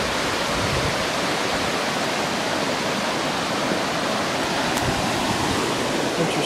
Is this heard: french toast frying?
no